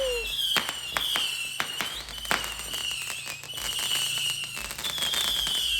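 Fireworks set off at night go up in repeated rising whistles, each followed by a sharp pop or crackle, several in a row at close range. Background chatter and occasional cheering carry on between the bursts.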